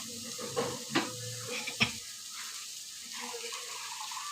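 Water splashed into a pan of frying spices for a stinging catfish curry, giving a few short splashes and a brief sizzle burst, then a soft steady simmer, close and alone.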